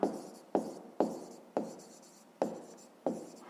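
Pen strokes on paper while working a 5th-grade math exercise, six sharp scratchy strokes each fading off, close and clear with no talking.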